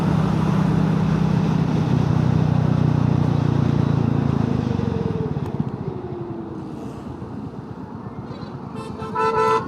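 Royal Enfield motorcycle engine running steadily on a ride from Patiala to Barog, a loud continuous drone that fades and eases off midway, with light traffic noise and a faint horn at the end.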